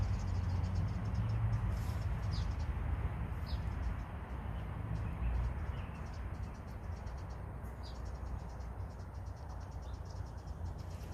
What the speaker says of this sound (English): we got like canary birds